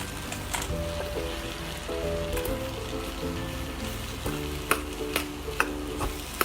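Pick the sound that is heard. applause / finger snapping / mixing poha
mixing poha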